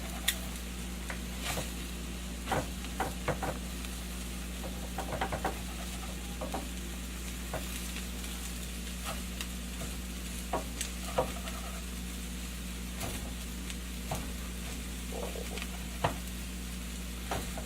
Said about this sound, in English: what I do now is I just cut it with my spatula